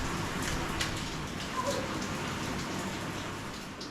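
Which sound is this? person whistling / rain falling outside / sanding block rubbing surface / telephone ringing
rain falling outside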